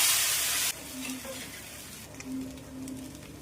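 Rava dosa batter hits a hot pan with a loud burst of sizzling, then settles into a steady, quieter frying crackle.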